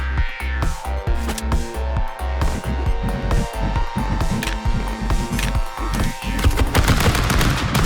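Rapid bursts of gunfire from the video game Stick Fight, loud and dense, with repeated shots and blasts layered over game music throughout.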